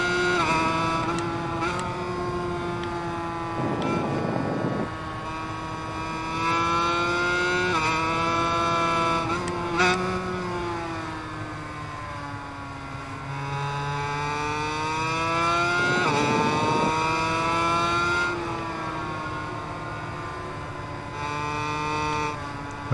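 Aprilia RS250 two-stroke race bike in RIDE 5 at Kyalami, its engine screaming and rising through the gears with brief drops between shifts, loud and close throughout with no talk.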